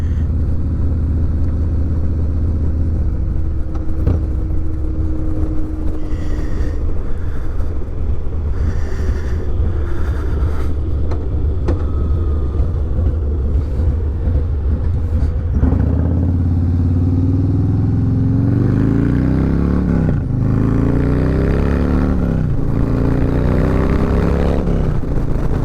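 Harley-Davidson Low Rider S fitted with a Red Shift 468 cam pulls hard at wide open throttle, its engine note rising through repeated sweeping climbs in pitch, loud and close, with a steady rumbling drone beneath and no talking.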